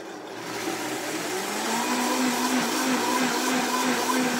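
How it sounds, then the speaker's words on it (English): An electric blender whirs steadily while blending mango with milk, its motor tone rising slightly as it spins up, then holding a loud, even whine with no talking. "Just put here, blending it together quickly."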